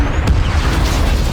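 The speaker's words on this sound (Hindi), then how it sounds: "हेलीकॉप्टर भी व्हाइट स्पाइक्स की पकड़ में आ गया और कुछ ही सेकंड में वह बेकाबू होकर इधर उधर घूमने लगा और एक जोरदार धमाके के साथ क्रैश हो गया" A movie scene of a helicopter spinning out of control and crashing with a loud explosion: a dense, sustained roar with heavy low-end rumble and a sharp burst near the start.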